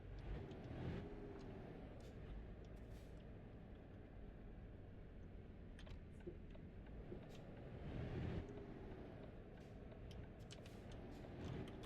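A truck rolls along a road in Euro Truck Simulator 2, a steady low engine drone with road rumble, faint and continuous, with slight swells as it accelerates.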